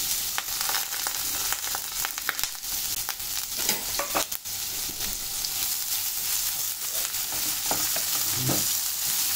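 Chopped onion fries in hot oil with mustard seeds and cumin in a pan for a ridge gourd bhaji, a dense close sizzle with crackling pops and intermittent stirring scrapes throughout.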